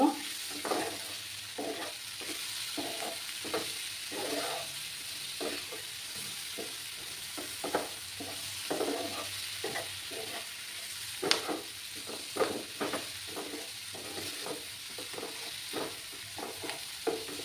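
Small fish with potato and spring onion sautéing in a pan for a Bengali chorchori, with a steady sizzle under repeated stirring scrapes in an irregular rhythm, close and moderately loud, no talking.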